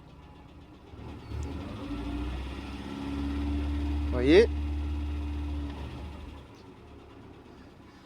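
A Peugeot 404 engine idles with the choke pulled, a steady low rumble close by, while someone speaks in French over it and a short rising squeal cuts in briefly near the middle.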